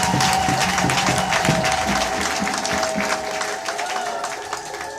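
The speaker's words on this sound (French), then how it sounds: "applaudissons pour lui." An audience at a festive installation ceremony for a new mayor in Nyanon breaks into loud, sustained applause with some cheering and crowd noise, a thick wash of clapping that holds steady for several seconds before easing slightly.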